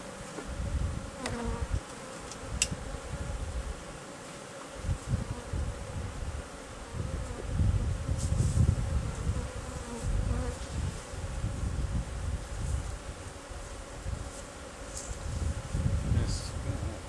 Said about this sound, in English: bees are definitely starting to feel a bit more upset about something.